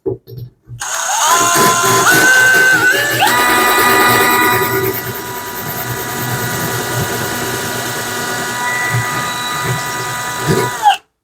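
A power tool grinds and whines steadily at high pitch for about ten seconds, cutting through ceramic tile, then stops abruptly.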